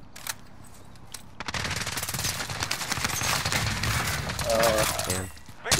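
Rapid automatic gunfire from Call of Duty: Modern Warfare rattles in sustained bursts, loud and dense, with a voice talking over part of it.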